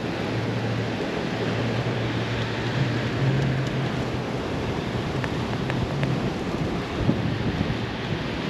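Storm Bert lashing Town Quay in Southampton: a constant roar of strong wind and rushing weather fills the whole stretch, loud and unbroken, with occasional faint knocks and gusts.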